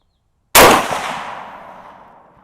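A single loud Howa Oryx rifle shot in an MDT Oryx chassis, fired on an outdoor range, an abrupt crack followed by a long, slowly fading echo, with no other sound around it.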